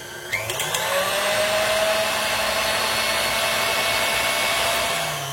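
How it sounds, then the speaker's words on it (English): An electric whisk beats eggs and sugar for a chocolate mousse, giving a steady, loud motor whine that runs almost the whole time after a few brief clicks at the start, with no talking. "start whisking immediately"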